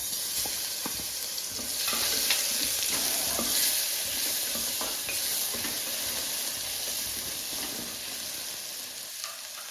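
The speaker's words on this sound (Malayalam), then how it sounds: "ഇനി അതിലേക്ക് ഇഞ്ചി, വെളുത്തുള്ളി, പെരിഞ്ചീരം കൂടി ചതച്ചത് ഇട്ട് കൊടുക്കും." Crushed ginger, garlic and fennel fry in hot oil in a pan for a Kerala-style chicken curry, a loud continuous sizzle with scraping stirs throughout and no voices.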